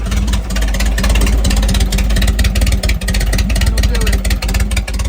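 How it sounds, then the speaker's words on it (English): A 1991 GMC Sonoma engine idles rough with an exhaust leak, a loud, steady low rumble with an uneven, ticking pulse running throughout at close range. "Running a little rough, but found the exhaust leak."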